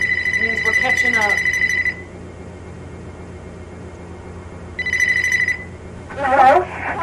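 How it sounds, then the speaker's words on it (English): A telephone rings in a video game with two loud bursts of electronic bell trilling separated by a pause, then a short tonal game sound, and no talk. "Oh, there's the phone."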